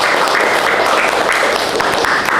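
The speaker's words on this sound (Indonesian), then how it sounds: "berikan aplaus dulu" A group of participants at a teaching presentation breaks into applause, a dense and steady wash of clapping that lasts the whole moment without pause.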